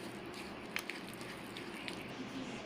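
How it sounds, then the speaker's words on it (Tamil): Stuffing for stuffed kalan is mixed by hand with curd and salt, giving soft, wet squishing and patting. The sounds are faint and close, with a few slightly sharper squelches along the way. "இது எல்லாத்தையும் நம்ம நல்லா மிக்ஸ் பண்ணிக்கலாம்."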